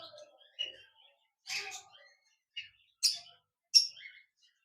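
A caged pair of lovebirds gives about half a dozen short, sharp chirps and squeaks, spaced irregularly with quiet gaps between them, close and clear with no talk.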